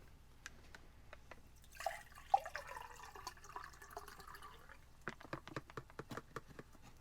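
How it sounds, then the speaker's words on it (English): Liquid is poured from a bottle into a glass, a faint, short splashing stream in a quiet room, followed by light drips and small ticking clinks. "we're going to pour it in the glass just so you can see what it looks like."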